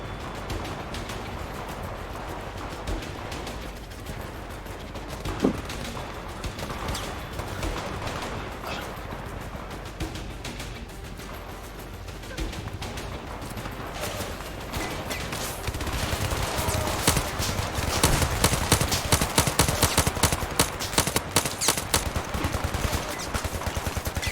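Gunfire crackles in the VR shooter Zero Caliber: dense bursts of automatic shots and scattered single reports over a steady din, growing louder and busier in the last third.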